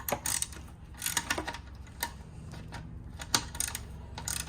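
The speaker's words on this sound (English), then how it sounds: "Let's remove the 10mm nut." Ratcheting wrench clicking off a 10mm nut on a Mitsubishi Lancer cooling fan switch, quick irregular metallic ticks and short ratchet bursts, close and fairly quiet with no talk.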